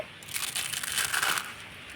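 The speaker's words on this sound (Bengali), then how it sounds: "একটা ভেঙেও দেখাচ্ছি তোমাদেরকে" Crispy fried jhuri bhaja, thin gram-flour strands, snapped and crumbled by hand, giving a close, dry crackling crunch that runs steadily for over a second before fading.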